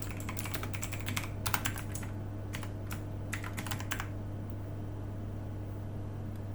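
Keyboard typing into a spreadsheet cell: a quick burst of key clicks in uneven clusters, close and moderately loud over a steady low electrical hum, then fading to just the hum.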